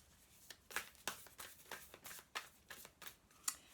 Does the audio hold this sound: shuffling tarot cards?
yes